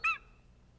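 A young golden eagle in Mongolia gives one short, loud, shrill call that ends quickly, alone and close.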